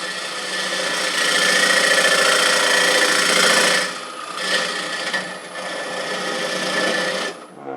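A steel scraper cuts into a spinning wooden jewelry box on a lathe, a loud continuous rasping scrape that dips briefly as the tool shifts, then resumes with no talking.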